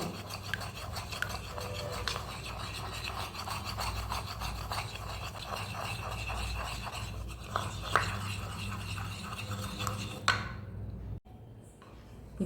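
A creamy face pack paste is stirred in a bowl, giving a steady close scraping, rubbing sound with a quick repeating rhythm that runs for about ten seconds and then drops to near quiet.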